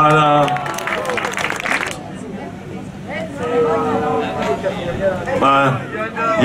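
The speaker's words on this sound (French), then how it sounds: "Bravo, on peut applaudir." A crowd claps briefly at the start, then the applause fades as amplified voices talk loudly over a murmuring audience, at a waiters' and waitresses' race during the 2021 Fête du Haricot in Soissons.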